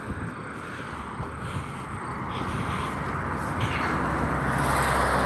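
Road traffic around a moving vehicle, a continuous low rumble with wind-like hiss that slowly builds louder over a few seconds, with no talking.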